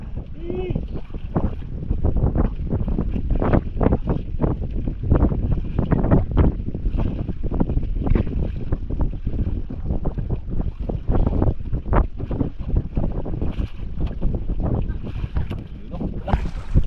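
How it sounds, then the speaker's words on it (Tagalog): Strong wind roars and buffets the microphone continuously, with a rough, gusty rumble that stays loud throughout and a faint sense of open water. "Malakas na hangin."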